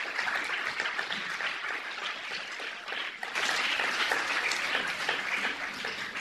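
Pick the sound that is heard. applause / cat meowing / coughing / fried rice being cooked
applause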